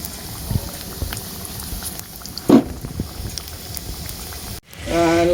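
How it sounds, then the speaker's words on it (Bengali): Battered eggplant fritters (beguni) hiss and bubble in hot oil with a steady sizzle, faint and close, and a brief gap comes just before the frying swells louder near the end. "তো এই যে আমাদের বেগুনি প্রায় ভাজা হয়ে গেছে দারুণ কিন্তু দেখতে হচ্ছে দারুণ ফুলছে"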